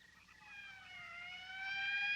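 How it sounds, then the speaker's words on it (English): A rising, sustained siren of an approaching morgue wagon in a 1959 cemetery-area night scene, a wailing tone that slowly climbs and grows louder as it nears. "That's the fifth siren in the last hour."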